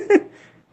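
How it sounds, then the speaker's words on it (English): A small homeless kitten at a veterinary clinic gives one short, high meow, near and fairly clear, fading quickly into quiet. "he's saying hi to our little homeless kitten here"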